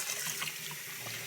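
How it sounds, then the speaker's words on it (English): Running water splashes steadily and softly from a tap while a Yorkie is rinsed during a bath, a continuous faint wash of flowing water. "So you've got to rinse, and when you think you're all rinsed, you rinse again."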